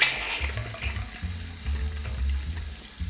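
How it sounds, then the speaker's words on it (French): Soda water being poured over Campari and sweet vermouth for an Americano cocktail, a splashing, fizzing pour heard close up with low gurgling and no voices. "On ajoute 30 ml de vermouth doux et enfin on achève en remplissant avec de l'eau de Cels."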